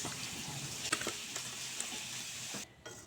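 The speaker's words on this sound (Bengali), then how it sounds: "মাছ ভাজার জন্য কড়াইতে তেল গরম করে নিয়েছি।" Oil heating in a kadai for frying rui fish gives a steady hiss and sizzle, broken by a few clinks of a utensil against the pan. It drops briefly quieter near the end.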